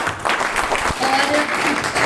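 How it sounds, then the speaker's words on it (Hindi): An audience at a business motivational seminar claps for a woman on stage, a brief dense burst of applause with a voice briefly heard over it. "एक बार तो इनके लिए तालियां हो जाए।"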